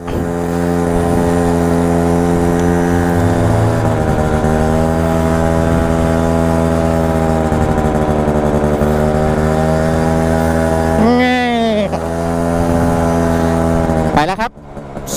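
A BMW GS1200 motorcycle is ridden with a steady engine drone and rushing wind for a long stretch, then a brief rising rev near the end.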